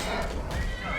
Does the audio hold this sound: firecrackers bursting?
no